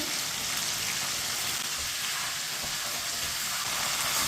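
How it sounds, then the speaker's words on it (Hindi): Chicken pieces fry over medium heat in a pan for chicken bhindi, a steady, close sizzle that hisses on evenly without pause and with no talking. "चिकन को 2 मिनट के लिए फ्राई होने देते हैं"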